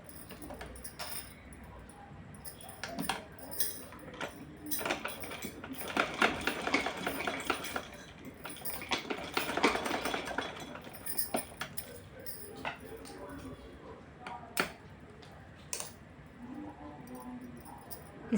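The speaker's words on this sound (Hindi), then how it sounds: "इसको इस तरह से इस पर हम रख करके सिलाई लगाएंगे" A sewing machine stitches fabric for a doll's dress bodice in faint, close bursts of rapid mechanical clatter, stopping and starting, with some handling noises between runs.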